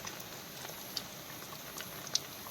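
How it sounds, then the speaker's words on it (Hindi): Steady rain falling continuously over a hillside village in the mountains, a faint, even hiss with a few soft, isolated drop taps. "पिछले 2 दिनों से कंटिन्यू बारिश हो रही है भाई अपने पहाड़ों में।"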